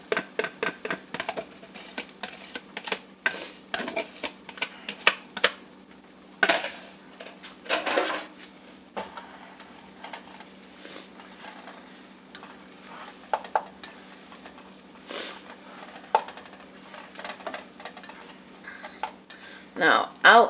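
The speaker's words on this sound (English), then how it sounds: "we're just going to scramble this up" Eggs with cheese and chilies are scrambled in a pan, a spatula scraping and clinking against the metal in irregular bursts, close and moderately loud, with a person talking at times.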